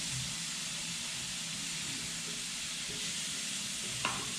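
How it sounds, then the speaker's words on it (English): Hakurei turnips searing and simmering in a pan give a steady, soft, continuous sizzle and hiss, with faint bubbling and a small clink near the end. "Just let that simmer a bit."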